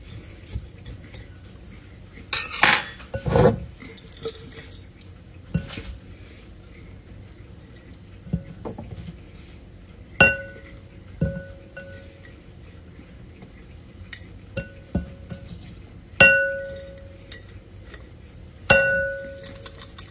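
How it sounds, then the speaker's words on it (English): A utensil mixes pickles with peppercorns, garlic and dill in a glass bowl. Early rustling and knocking give way to about six sharp, ringing clinks against the glass, spaced a few seconds apart, with no voices. "Well, I need to quit hitting my bowl, don't I?"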